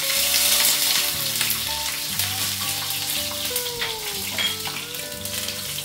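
Garlic frying in white oil and ghee in a pan for chicken malai curry, a steady, close, bright sizzle with a crackling hiss, with background music running underneath.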